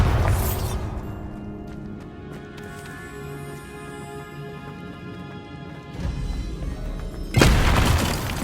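A Bombarda blast spell in Hogwarts Legacy bursts with a heavy boom, followed by a lingering rumbling decay and clattering debris, then a second loud crashing impact near the end.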